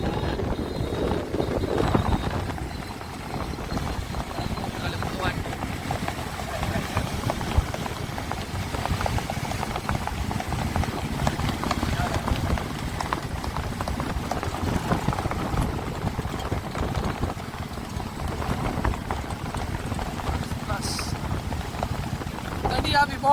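Racing horses in the Rann of Kutch, including a champion horse from Uttar Pradesh, make a steady drumming of hooves under a constant roar of wind and crowd noise, with voices talking throughout.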